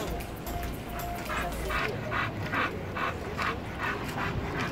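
A dog pants rapidly in a quick, even rhythm, with a few soft whimpering yips, close by.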